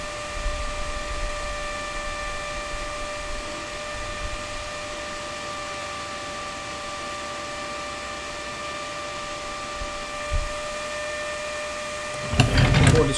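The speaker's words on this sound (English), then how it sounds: "You can always use the fume extractor to cool down the board." A fume extractor runs steadily at an electronics repair bench, cooling an iPad Pro circuit board with a constant whirring hiss and steady tonal hum, joined by a brief clatter near the end.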